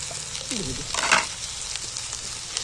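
Cut potatoes fry in hot oil with onion as they are stirred for a chicken dish, giving a soft, steady sizzle with a brief scraping stir in the middle.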